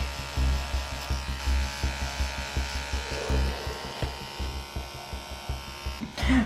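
Amazon's cheapest tattoo machine buzzing while shading with black ink, a low electric hum pulsing in quick, regular bursts as the needle works, close and steady, ending with a brief louder rattle.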